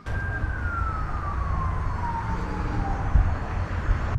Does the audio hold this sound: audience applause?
no